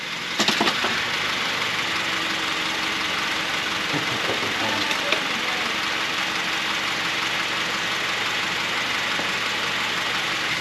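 A Honda Fit sits idling in park with a steady, broadband engine drone and faint rattle, a few sharper knocks near the start and around the middle, no talk.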